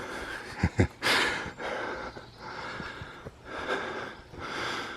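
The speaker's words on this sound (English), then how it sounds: "So please excuse my heavy breathing" Heavy, loud breathing close by after climbing a steep wooded slope, with sharp gasping inhales and long rasping exhales repeating over several seconds, no talking.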